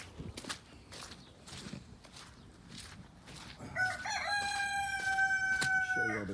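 Chickens, including Barred Rocks, in their 20 by 20 coop: footsteps and soft rustling at first, then a loud nearby rooster crow rings out clearly, with quieter clucking around it.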